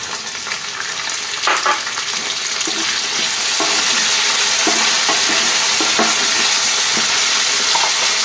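Green peas tipped into a wok of fried potatoes for a drumstick-flower stir-fry, the loud sizzle building and holding steady, broken by repeated scraping strokes of a spatula close by.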